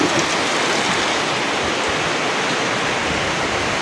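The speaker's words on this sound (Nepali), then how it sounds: "मम्मी उतापट्टि गाइस कत्रो ठुलो पानी पर्दैछ हेर्नु न अगाडि" Heavy rain pours down steadily, a dense, loud broadband hiss with no pauses and no voices.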